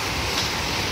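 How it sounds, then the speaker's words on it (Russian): Ocean waves near a reef by an island make a brief, steady broadband wash and rush, loud and close, like surf heard from a boat by the shore. "Волны вот такие."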